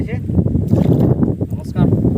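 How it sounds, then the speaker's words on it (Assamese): A wooden boat being rowed on a river, soft paddle splashes and water sloshing beneath someone talking, with wind buffeting the microphone close by. "এইফালে সি নাও চলাইছে"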